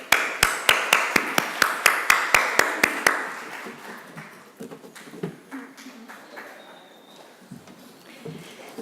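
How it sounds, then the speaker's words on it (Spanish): An audience at a human rights course conference claps to welcome a speaker: a run of loud, evenly spaced claps in unison for a few seconds, then the applause thins into scattered, fading claps. "recibimos con un fuerte aplauso"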